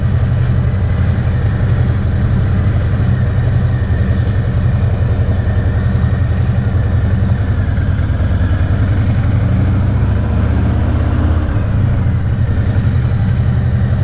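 A Harley-Davidson motorcycle fitted with a Two Brothers 2-into-1 exhaust rumbles loudly and continuously at close range while decelerating, its deep throbbing note shifting slightly near the end.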